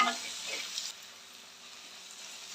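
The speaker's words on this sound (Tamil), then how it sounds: "வெங்காயம் கொஞ்சம் கோல்டன் ப்ரௌன் கலர் மாறிட்டு அது வரைக்கும் வதக்கி விடலாம்" Chopped onions sauté in a hot pan for a banana-stem kootu, giving a steady, soft sizzle that stays fairly quiet throughout with no talking.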